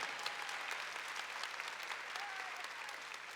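A church congregation clapping steadily and loudly, dense applause sustained throughout without a break.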